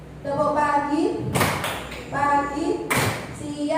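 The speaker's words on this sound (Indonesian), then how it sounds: "Kalau tepuk pagi 1 tepuk, tepuk siang 2 tepuk" A group plays a rhythm clapping game in a workshop session, with two sharp bursts of clapping from many hands breaking through an adult voice that speaks continuously.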